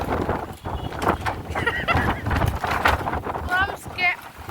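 Strong, gusty outdoor wind buffets and rumbles against the microphone while people talk and shout over it.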